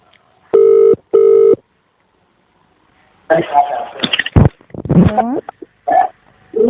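Telephone busy signal from a call that will not connect: two steady beeps near the start, then silence, followed by people talking on the line.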